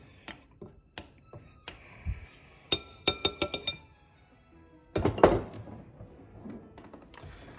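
Dry cookie ingredients with salt being stirred in a bowl, heard as sparse clinks and taps of a utensil against the dish, including a quick run of sharp ringing knocks, close and with no talk over them.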